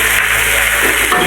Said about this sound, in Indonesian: Kita tumis cabai rawitnya.